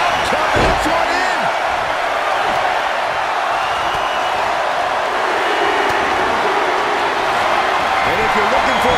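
A video game arena crowd from a WWE 2K24 Royal Rumble match roars in a dense, continuous wash of cheering, with a commentator's voice running over it and a brief slam-like thud early on.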